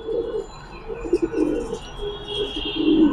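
Giribaz pigeons from a collection of birds for sale coo in low, rolling murmurs, fairly close, over a steady noisy background with a few sharper chirps.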